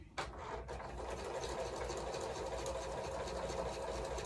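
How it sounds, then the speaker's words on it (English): Home sewing machine stitching quilt fabric pieces right sides together with a scant quarter-inch seam, a steady close whir running continuously after a brief start-up, with no talking. "Turn on my machine here and stitch these. Ah, the sound of my machine starting up."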